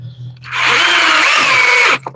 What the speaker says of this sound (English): running the drill a little bit ain't going to hurt nobody